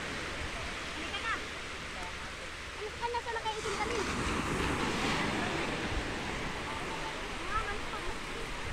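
Ocean surf washes onto a beach at Baler, Aurora, a continuous broad rushing roar that swells in the middle, with people talking over it.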